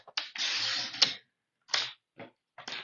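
A sheet of 8.5x11 patterned paper is trimmed down for a scrapbook layout with a long, sliding cutting pass, then a few short, sharp clicks and slides of a trimmer, close and crisp in an otherwise quiet room.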